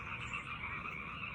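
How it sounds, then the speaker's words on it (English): A dense chorus of many frogs croaking together in reeds at dusk, a loud continuous churning wall of calls close by, with no talking over it. "There's so many frogs in there right now."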